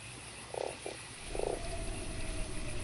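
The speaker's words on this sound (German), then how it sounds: "Dann muss ich den Frosch damit ermorden," A frog in the video game Fran Bow croaks in a few short buzzing bursts, two quick ones then a longer one, fairly soft over a steady hissy ambient background.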